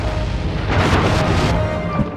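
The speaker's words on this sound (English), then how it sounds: "Load the cannons and prepare to come about." Ship's cannons firing in a harbor battle, a dense booming roar that swells briefly in the middle and stays loud and sustained throughout, with no talk.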